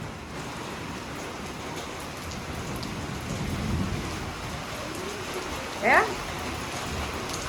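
Steady rain pours outdoors during a monsoon storm, with a low rumble of thunder swelling midway and a brief voice calling out near the end.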